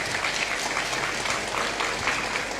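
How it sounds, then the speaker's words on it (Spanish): Church congregation breaks into applause during a sermon, a broad continuous wall of clapping from a large crowd, loud and steady for a few seconds. "Si usted puede aplaudir, aplauda."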